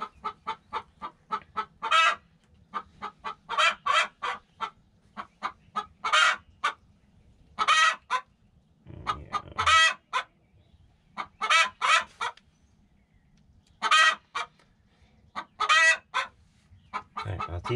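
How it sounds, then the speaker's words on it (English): Chickens and roosters kept in a neighbor's yard cluck and crow loudly in repeated bursts throughout, close and insistent, with brief quiet gaps between calls and a short low thump midway. "this guy over there has all these stinking birds, and they're just so loud"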